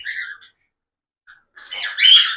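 High, squawky cockatiel calls close by: a short burst of chirps, a pause of near silence, then a louder, harsher run of calls.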